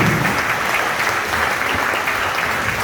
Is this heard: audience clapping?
yes